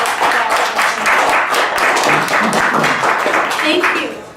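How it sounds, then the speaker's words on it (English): An audience at a family-law social gathering gives a loud, sustained round of applause, many hands clapping close together with a slight fade at the end. "let's give a big round of applause"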